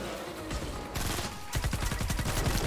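Rapid automatic gunfire in Fortnite: Save The World, a dense close burst of shots rattling steadily after a softer lead-in, with no voices over it.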